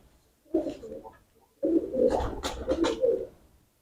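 Cooing of a closed-tail pigeon, a Ferozpuri and Chinese mix, comes close in two bursts: a short burble, a pause, then a longer throaty run of coos.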